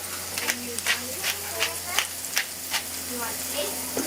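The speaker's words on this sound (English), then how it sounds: "get our carrots in here with a little bit of salt, and then we're gonna cook them to get them a little bit softer" Carrots with salt and pepper cooking in a pan, a steady soft sizzle with a few stirring scrapes, heard close and moderately loud beneath a voice that talks over it.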